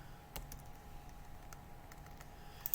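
Computer keyboard arrow keys are pressed while setting up CNC test cuts in software. A handful of faint, separate clicks are spaced irregularly over quiet room hiss, with no talking.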